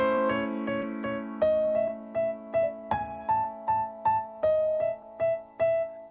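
A sustained keyboard chord sounds beneath a series of repeated, evenly spaced melody notes that shift pitch, moving from a clashing dissonance toward a resolved harmony, soft and close with no talking.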